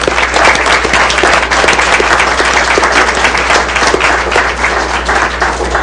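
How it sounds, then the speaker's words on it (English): A room full of people at a Woodland Park city council special meeting applauds, a loud, dense and steady clatter of hands over a low hum, continuing evenly from start to finish without talk. "So I want to give you all a round of applause."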